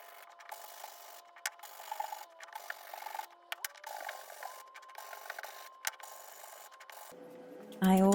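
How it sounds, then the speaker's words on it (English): A hand sanding block rasps in quick repeated strokes along the edges of wooden stringer blocks, chamfering scrap wood for a rolling workbench; close, fairly soft scraping that ends in a brief louder knock. "I'm using a sanding block to create a chamfered edge along each side of the stringer blocks."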